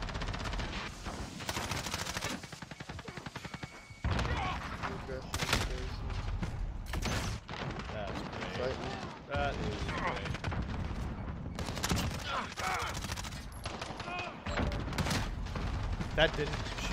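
Repeated bursts of automatic gunfire and fusillades from the video game Warzone, loud and close, with sharp volleys at irregular intervals throughout.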